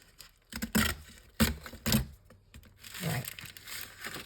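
A glassine paper bag is trimmed for a craft project, giving several quick crisp paper snips and crinkles near and fairly loud, spaced over a few seconds with brief rustling between.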